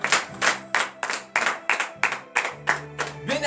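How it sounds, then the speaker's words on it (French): Rhythmic clapping from worshippers at a morning prayer service, about a dozen even, sharp claps in a steady beat, fairly close and without talking. "Donnez de vive acclamation à l'Éternel."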